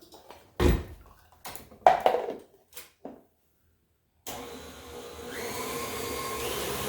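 A stand mixer starts up and runs with a steady whirring drone while mixing pumpkin bread batter, after a few knocks and clunks as pumpkin is spooned into the bowl.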